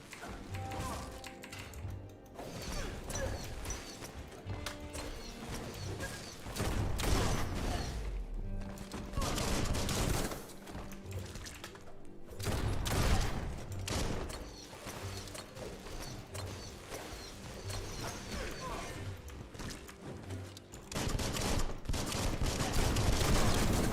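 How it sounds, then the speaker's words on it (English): Shotgun blasts boom in the game Biomutant amid dense, loud combat noise, with repeated heavy shots and mechanical clatter layered over a continuous game soundtrack. "Good with the shotgun."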